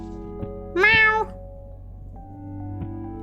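A person's voice imitates a cat, giving one short, clear, close meow that rises and falls, set against a quiet room with low background hum.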